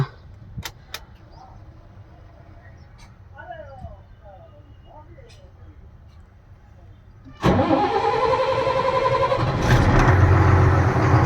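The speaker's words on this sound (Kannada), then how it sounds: "ಸ್ಟಾರ್ಟ್ ಆಯಿತು ಗಾಡಿ ಬ್ಯಾಟ್ರಿದೇನು ಪ್ರಾಬ್ಲಮ್ ಇಲ್ಲ" A vehicle parked for a week is started: quiet surroundings with faint sounds, then the engine cranks and catches, settling into a loud, steady idle close by. Speech is faint or absent.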